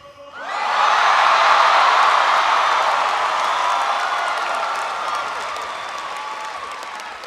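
A large commencement crowd in a stadium bursts into applause and cheering, a loud, sustained roar of clapping and whoops that slowly fades.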